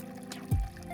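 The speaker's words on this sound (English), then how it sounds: "We have our little water feature." Water trickling and splashing from a small DIY copper fountain in a zone 6 side garden, a soft, faint pouring with one brief louder splash partway through.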